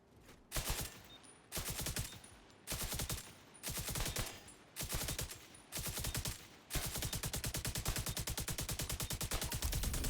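Sustained automatic machine gun fire in The Division 2, played on hardcore mode: several loud, rapid bursts with short gaps, then one long unbroken stream of fire close up. No voices are heard.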